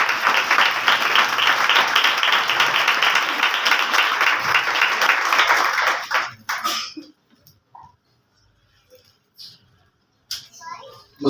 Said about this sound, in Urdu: آپ سب کی تالیوں میں۔